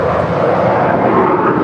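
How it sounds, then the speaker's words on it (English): A five-year-old American Airlines Airbus A321 taking off at LAX roars loud and steady, its dense broadband engine noise constant through the short stretch. "This is American Airlines Flight 1713 departing to Orlando. It's a 5-year-old Airbus A321."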